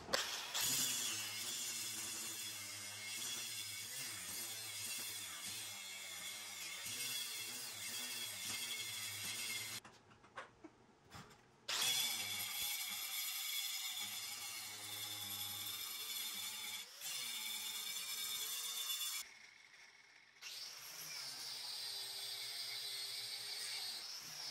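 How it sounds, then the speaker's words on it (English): Angle grinder with a flap wheel grinding off old weld on a steel dump trailer lift mounting plate: a loud, continuous high-pitched grinding whine, broken by two short pauses where the tool stops. "So I will first start by grinding off all the old garbage weld, cleaning up this side mounting plate"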